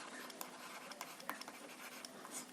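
Pen writing on paper or a board during a Hindi-language exam-prep lecture on municipal law, a soft, continuous scratchy scribbling with small taps, faint and steady throughout.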